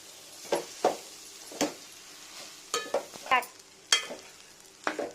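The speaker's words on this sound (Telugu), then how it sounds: "మనం ఉడికించి పెట్టుకున్న రైస్ మొత్తం వేసుకుందాం ఇది ఒకసారి బాగా కలిపేసుకుందాం" Cooked rice stirred into fried grated mango for pulihora in a pan, with a string of scraping stirring strokes and a light sizzle, close and clear, with no talk.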